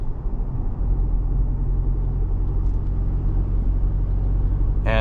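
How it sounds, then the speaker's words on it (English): A 2026 Chevrolet Colorado pickup's turbocharged engine drones steadily and loudly throughout, low rumble with a rising turbo whine, continuous and close, with a brief hiss near the end. "you can hear that turbo winding up"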